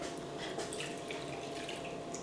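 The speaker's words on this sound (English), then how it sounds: "Half a cup of water in this." Half a cup of water pours into a jar of vinegar brine for homemade pickled jalapenos, a steady splashing trickle running without pause for a couple of seconds, close and fairly quiet.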